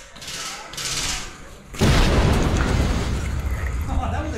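Gel blaster grenade going off during a gel ball skirmish, a sudden loud burst that rises into a sustained rushing blast after a moment of quieter activity, with voices around it.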